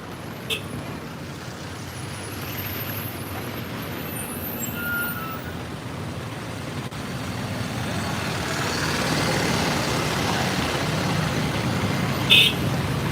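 Steady roadway rumble of slow-moving traffic on the Mumbai–Ahmedabad highway, trucks and buses crawling nearby with a continuous low engine drone, a brief hiss of an air brake near the end, no talking.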